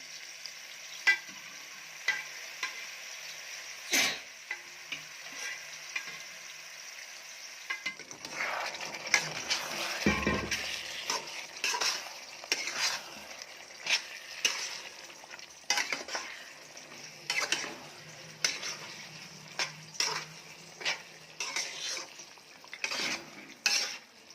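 Cooked mutton is stirred into a frying Kolhapuri-style gravy, with repeated scraping and clinking of a spoon against the pot over a soft sizzle, nearby and without voices.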